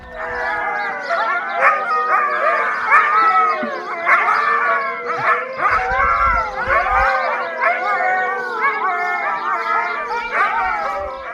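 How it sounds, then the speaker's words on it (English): Several Alaskan Malamutes bark, yelp and howl together in a loud, overlapping chorus that carries on without a break. "they erupt into a short but vigorous chorus of barking."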